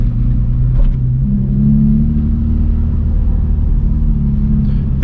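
A Nissan 350Z on KW coilovers with a straight-piped full HKS exhaust rumbles loud and close from the driver's seat, a deep, steady engine drone with slight rises in pitch as it cruises.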